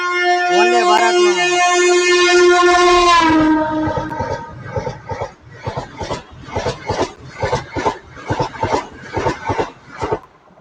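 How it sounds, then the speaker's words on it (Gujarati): Indian Railways train horn blaring loudly for about three seconds as the Sabarmati–Veraval Vande Bharat express overtakes the Rajkot–Veraval passenger train, followed by a rapid rhythmic clatter of wheels passing close by. "ટ્રેન નંબર 26901 સાબરમતી વેરાવળ વંદે ભારતનો ઓવરટેક રાજકોટ વેરાવળ પેસેન્જર ટ્રેનને"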